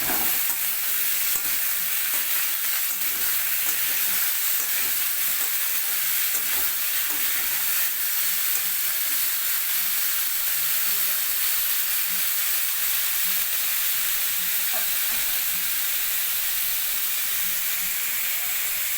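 Pumpkin and potato pieces fry in a wok with cumin, giving a steady, bright sizzle and hiss that lasts throughout, broken by occasional soft scrapes of stirring, close and with no talking.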